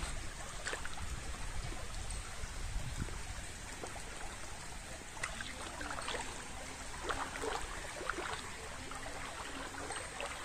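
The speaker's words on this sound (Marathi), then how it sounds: "असा व्हाळ आमच्या बागेच्या बाजूने जातो" A small stream runs beside a garden with low water, making a steady, soft trickle and babble close by. No voices interrupt it.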